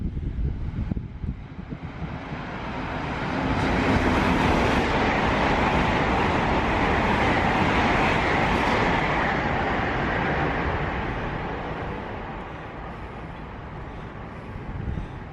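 Passenger train running through a London station platform without stopping, a long rising roar of wheels and rushing air that peaks loud and close mid-pass, then gradually fades with wind buffeting the microphone.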